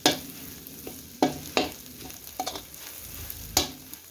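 Mackerel chili paste stir-fried in oil in a pan, with a low steady sizzle broken by sharp scraping stirs of the spatula at irregular intervals, close and fairly quiet.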